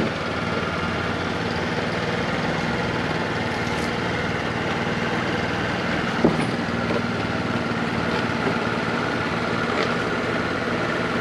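A moped engine idles steadily nearby, a continuous low buzzing drone with no revving and only a small click partway through.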